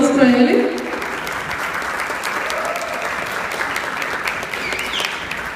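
An audience at a live recital applauds the artistic director with warm, sustained clapping that starts slightly louder and settles into an even, dense patter, with a voice briefly heard at the start.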